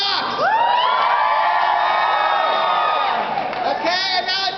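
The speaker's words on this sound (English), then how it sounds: "I want to hear a cheer for Google Docs." A crowd at a Purim shpiel cheers and whoops loudly, a sustained rising roar of many voices with shrill yells, near and energetic before briefly dipping and swelling again.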